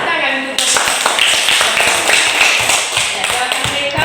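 A group claps in steady, fairly loud rhythmic beats that continue throughout, with voices heard alongside.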